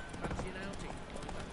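A horse's hooves clip-clop steadily in The Witcher 3: Wild Hunt, a quiet, even galloping rhythm with faint game ambience behind it.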